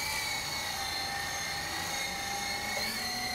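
E-Sky Lama V4 radio-controlled helicopter flying outdoors, a steady, loud high-pitched motor and rotor whine holding nearly constant pitch with a slight waver near the end, no voices.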